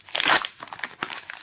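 Crinkly foil Panini sticker packets are torn open and crumpled close up, several quick crackling tears in a short burst.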